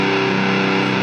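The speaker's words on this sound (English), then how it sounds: "I like the distortion through the clean's natural sound" An electric guitar run through a Digitech RP250 distortion into a Marshall amp's clean channel rings out as one sustained, buzzing chord for about a second.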